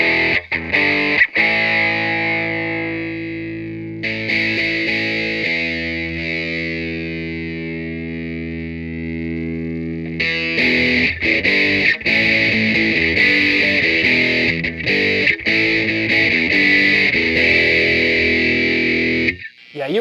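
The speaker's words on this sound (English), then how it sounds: "you really got to crank this amp in order to get that drive to sound good" Electric guitar played through a cranked 1973 Peavey Classic 212 amplifier's drive channel, with long sustained distorted chords followed by busier gritty riffing, loud and continuous throughout.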